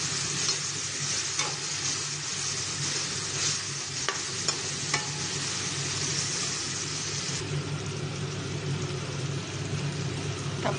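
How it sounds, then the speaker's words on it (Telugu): Tomatoes fry and sizzle in a pan over high flame while being stirred, a steady crackling hiss with scraping stir strokes throughout, moderately close and with no talking. "టమాటా బాగా వేగింది కదా."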